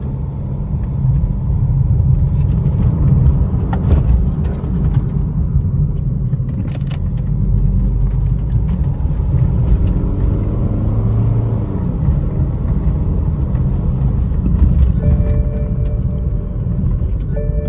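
A BMW E90 on a test drive, suffering a loss of power from a clogged DPF, gives a steady, loud road rumble and engine drone from inside the cabin throughout.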